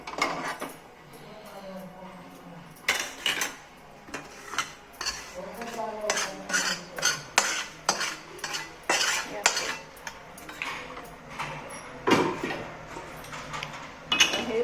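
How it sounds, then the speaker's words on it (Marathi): Repeated metallic scrapes and clinks of a spoon against a pan or plate as roasted vermicelli is transferred onto a plate, irregular and close, with quiet moments between. "मी आता एका प्लेटमध्ये त्याला काढून घेते"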